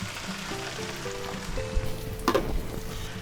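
Beaten egg mixture frying with peppers in a pan over medium heat, a steady close sizzle with a few brief scraping stirs and no talk.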